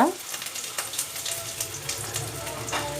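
Loud, continuous sizzling and crackling of fish pieces frying in hot oil, close up, with a brief scrape at the start.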